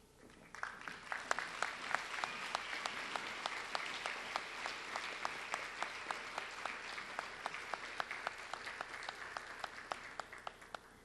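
An audience applauds ambassador candidates at a community festival coronation, sustained clapping from a moderately distant crowd that builds quickly and holds steady.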